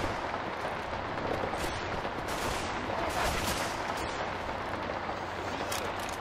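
Dense, continuous gunfire in the zombie shooter Left 4 Dead 2 during the Hard Rain campaign, a steady roar of shots and rumble with no clear gaps, voices faintly under the din.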